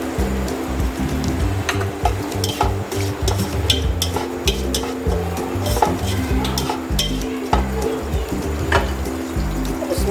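Onion frying in a pan for Singaporean rice, a loud close sizzle under a steady rhythmic scraping of a spatula stirring against the pan, with no voices.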